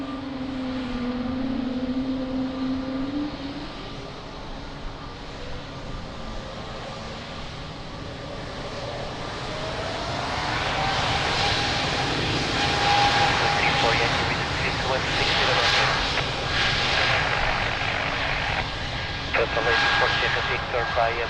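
An airliner rolls for takeoff on runway 02 at Lisbon Airport, its engine roar building from a distant rumble to a loud, broad rush, while a radio voice and talk sound over it.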